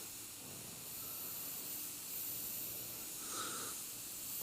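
A steady, faint hiss of a sputtering airbrush spraying unevenly runs throughout, with a brief sharper spurt partway through; no voices.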